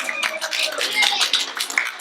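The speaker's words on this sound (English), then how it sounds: "Give another round of applause to our 107 McGee's" A round of applause from an audience at a local history storytelling event, brisk clapping running continuously through the short moment alongside some voices.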